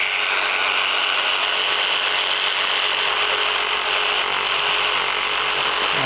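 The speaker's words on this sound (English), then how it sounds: "I like to make that little overlapping miter first," A saw cuts a miter in baseboard molding, giving a continuous bright, rasping cut that holds steady and close for several seconds with no talk.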